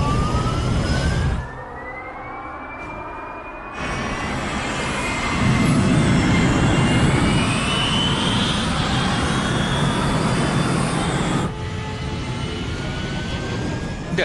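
A jet airliner takes off in an action film scene, its engines roaring loudly with a rising whine that sweeps upward, broken by abrupt cuts where the roar briefly drops away before returning at full strength.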